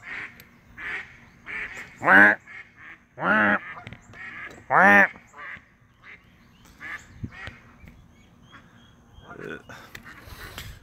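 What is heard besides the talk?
ducks and geese quacking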